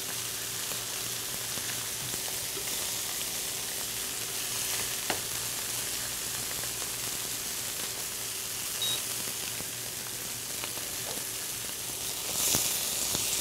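A thin beef fillet sears in a hot pan, giving a dense, steady, rain-like sizzle that holds evenly throughout at close range, with a few faint clicks and no voices.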